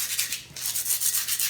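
Rhythmic back-and-forth scratchy rubbing of sandpaper on a concrete surface, close and steady with short repeated strokes.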